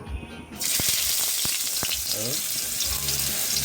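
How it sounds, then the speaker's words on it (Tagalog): Garlic hits hot oil in a pan for Filipino fried rice, sangag: a sudden loud sizzle starts just after a quiet moment and holds as steady, close, crackling frying noise. "Ayan, magsasangag tayo mga lods para mayroon tayong almusal."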